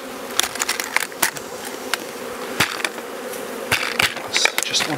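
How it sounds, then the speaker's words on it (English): Honey bees buzz loudly up close as they are tapped off a hive floor, a steady droning hum broken by repeated sharp knocks and bumps against the wood. "And then we'll just tap the bees off the floor."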